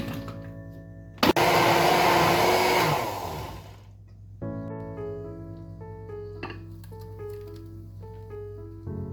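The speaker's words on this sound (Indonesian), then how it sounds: "Lanjut sekarang kita haluskan cabai keriting hijaunya." A blender grinds green curly chilies and spices for an Indonesian duck dish, starting with an abrupt loud whir that runs about three seconds, winds down, then gives way to quieter clinks and kitchen sounds.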